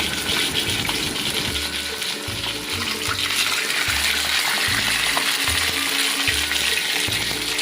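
Masala fish fries in hot oil in a kadai, making a continuous close hiss and crackle, while a repeating low rhythmic thumping pattern runs underneath and nobody speaks.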